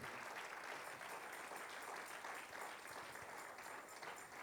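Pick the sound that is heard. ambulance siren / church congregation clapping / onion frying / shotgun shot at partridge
church congregation clapping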